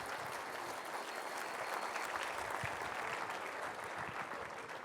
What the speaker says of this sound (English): Give these folks a round of applause if you don't mind.